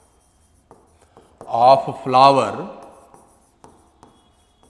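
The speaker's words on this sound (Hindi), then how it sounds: "तो बिल्कुल सिंपल डेफिनेशन लिखेंगे" Someone writes a definition on a board during a botany lesson. Brief, faint scratching and tapping strokes come in short bursts around someone speaking loudly in the middle.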